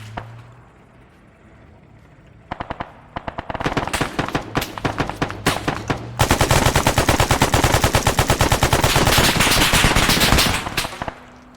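A .50 cal machine gun in the game Arma 3 fires loud, rapid bursts, short volleys at first and then a long sustained stream of shots close by, with no talking.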